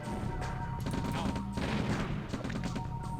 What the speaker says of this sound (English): Did I hear more shooting here?